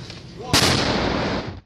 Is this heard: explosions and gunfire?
yes